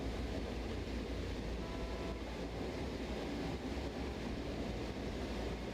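A train in the simulation game Train Sim World 4 runs with a continuous, even rumble and broadband rolling noise, steady and fairly loud throughout with no talk over it.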